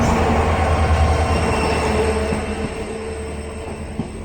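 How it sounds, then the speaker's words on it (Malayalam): The Shoranur-Nilambur Express arrives at a station with a steady, heavy rail rumble that gradually eases off. A single sharp wheel clack near the end stands out, and no voices are present. "ഓപ്പോസിറ്റ് വണ്ടി ഇങ്ങനെ ഫൈനലി കയറി വരികയാണ്."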